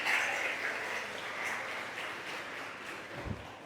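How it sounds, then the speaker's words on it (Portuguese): A church congregation claps in praise of Jesus, a steady wash of mid-distance applause from many hands that continues without pause and fades slightly toward the end. "Dê um forte aplauso ao Senhor Jesus."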